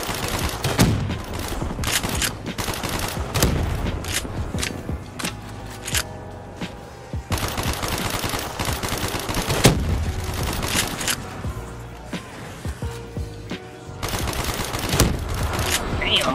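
Sustained automatic gunfire in Call of Duty Zombies, long loud bursts of rapid shots separated by brief pauses, with game effects underneath.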